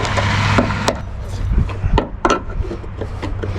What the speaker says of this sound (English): Just trying to bust it apart here.